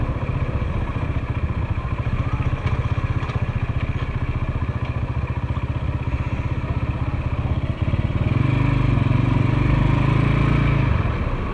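A motorcycle with a loud racing exhaust riding in traffic on a year-end touring trip, its engine droning steadily and hard the whole time, close and loud, rising slightly near the end, with no speech.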